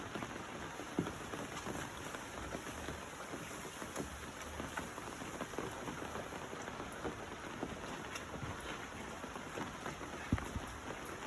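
Steady rain pours over a rooftop garden of dragon fruit plants, a dense even hiss of drops with occasional louder splats close by, no voices.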